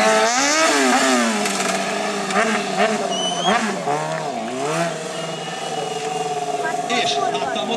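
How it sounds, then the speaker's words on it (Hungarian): Motorcycle engine revving and whining in rising and falling sweeps during a street stunt riding show, loud and close, with an announcer talking over it throughout. "forgásba visszük a motort"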